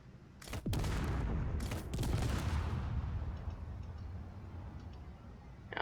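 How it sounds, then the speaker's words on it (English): Missile turret on a starfighter in Space Engineers fires a couple of sharp launch bursts early on, followed by a loud sustained rushing roar that slowly tapers off, with no talk. "Now we have to go into our menu to fire the rocket launcher."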